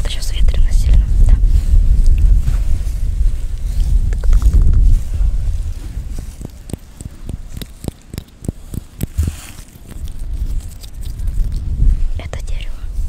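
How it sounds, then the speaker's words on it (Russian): Strong wind gusts outdoors in nature buffet the microphone with heavy low rumbling that rises and falls, while a person whispers close by. "У нас, правда, сейчас ветрено сильно, да."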